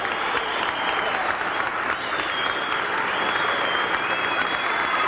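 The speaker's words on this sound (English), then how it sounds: "Again, the crowd is cheering the President." A large political rally crowd in Minnesota in 1978 cheers and applauds President Jimmy Carter, with steady dense clapping and whistling that stays loud and constant, like a roaring wash.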